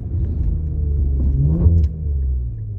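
An Infiniti Q60 with a new AAM exhaust mod gives a deep, throaty low rumble while driving, steady and close with a slight swell midway, no voices.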